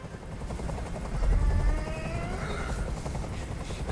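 Helicopter from the video game Detroit: Become Human flying overhead, a loud steady rotor drone and chop that swells briefly, with faint voices underneath.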